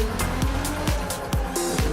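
A Ferrari LaFerrari in Forza Horizon 3 screams down an airport runway, its engine note rising through repeated gear changes, each sharp upshift giving a dip in tone, loud and close with no talk.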